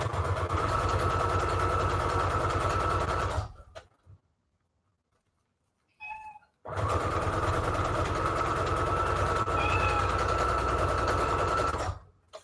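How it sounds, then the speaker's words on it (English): A sewing machine stitches a straight seam through stacked scrap fabric, running loudly in two long steady bursts separated by a quiet pause with a few small clicks. "Put our fabrics on top of each other. And we're just sewing a nice straight line."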